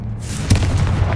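The Bombarda blasting spell detonates in the Hogwarts Legacy game, a single sharp, booming explosion followed by a short rumbling decay, heard alone.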